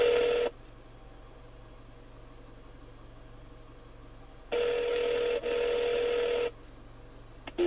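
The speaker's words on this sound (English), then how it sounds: "Dialing 815-224-2525." Touch-tone dialing from a Mitsubishi Fuse hands-free Bluetooth phone system in an idling Mitsubishi Outlander: a loud steady tone, a pause, then two more tone bursts close together, all over a low engine hum.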